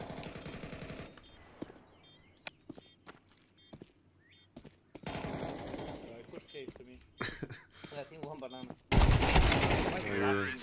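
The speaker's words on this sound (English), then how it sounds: "I just hear Loba shooting the wall, bro." Bursts of gunfire hitting a wall in the video game Counter-Strike 2, sharp repeated shots mixed with in-game footsteps and players talking over them, ending in a loud sustained volley.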